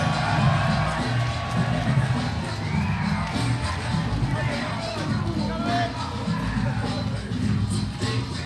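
A crowd cheers and roars after a chessboxing fight between Sanchez Amen and Galiakhmetov at a Spain vs. The World season finale, a steady loud wall of shouts, whoops and babble that runs throughout without a break.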